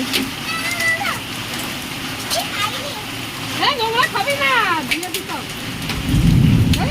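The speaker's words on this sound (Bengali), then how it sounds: "দেখো রাস্তাগুলো দেখো, টপ টপ করে সিল পড়ছে।" Hail and heavy rain pelt a road in a thunderstorm, a dense continuous patter with rumbling underneath that swells toward the end, while a person talks over it throughout.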